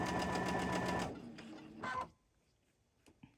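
Sewing machine stitching through fabric on a quilt assembly project, a loud steady rapid run for about a second, then a brief second burst and a few faint clicks before quiet.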